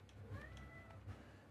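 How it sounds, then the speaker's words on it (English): A cat gives a single drawn-out meow, close and clear over a low background hum. "What do you want, cat?"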